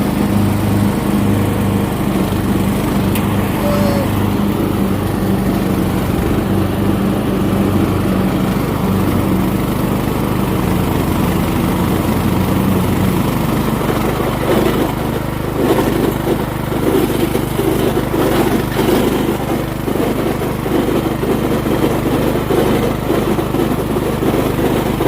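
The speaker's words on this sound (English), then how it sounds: "we're gonna start to cut this grass" A lawn mower engine runs steadily throughout while cutting grass, a loud continuous drone with a low rumbling hum and slight shifts in load, with no talking.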